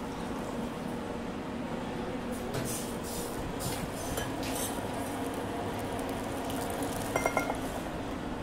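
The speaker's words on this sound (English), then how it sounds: "we give a little stir and a twist of orange" A cocktail is stirred in a glass before an orange twist goes in. A few faint, quick clinks of glass come near the end over a steady room hum.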